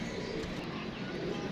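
Pigeons coo steadily in an outdoor loft, a soft continuous cooing against a noisy background, with no clear talk over it.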